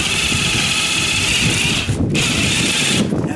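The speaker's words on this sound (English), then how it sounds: "I guess I can drill right here next to it." A power drill bores into an exterior wall beside a sconce fixture, whirring loudly and steadily up close with two brief pauses as the bit stops and restarts.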